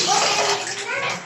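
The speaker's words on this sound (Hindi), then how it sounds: "बाथरूम में मैं अभी पानी भर रही हूँ।" Tap water gushes into a container in a home bathroom, a steady bright splashing rush with a faint voice beneath it.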